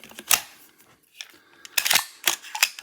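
A magazine is pushed into a VFC AR15 gas blowback airsoft rifle, giving a few sharp, close plastic-and-metal clicks and clacks with short gaps between them.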